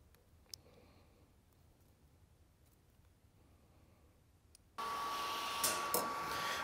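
A Tire Titan heat tool switches on abruptly and blows steadily to shrink heat shrink tubing on a quarter midget race car's wiring, a loud, even airy roar after several seconds of near silence with faint clicks.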